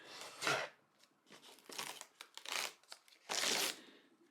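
Cardboard and paper packaging of a Christopher Ward C65 Super Compressor watch box being opened, with several bursts of tearing and crinkling separated by short pauses, close and moderately quiet.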